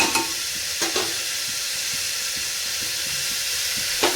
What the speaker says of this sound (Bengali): জাস্ট একটু নাড়বো চাড়বো।